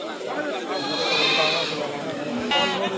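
Goats bleat repeatedly at a busy rural cattle and goat market, their calls rising over a steady background of crowd chatter and talking voices.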